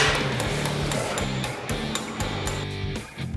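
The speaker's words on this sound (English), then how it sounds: "Do some hammer and dolly work on the" Rapid metallic hammer-and-dolly taps on a car's metal firewall ring out in a steady series over a continuous background hum, sharp and close.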